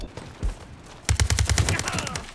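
Beryl M762 assault rifle fire in the shooter game World War 3, a quiet shot or two followed by a rapid, loud burst of about a dozen evenly spaced rounds.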